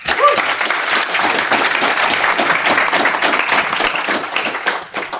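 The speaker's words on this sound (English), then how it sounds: "So let's give them both a big round of applause." An audience at a Swetugg conference panel on MAUI gives speakers a big round of applause: dense, steady clapping from many hands that fills the room throughout, loud and close, fading slightly at the end.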